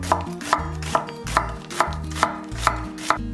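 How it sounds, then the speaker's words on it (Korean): A knife chopping onion on a cutting board in eight evenly spaced, crisp thuds, close and loud, with nothing else heard between strokes. "양파를 썰어 보겠습니다."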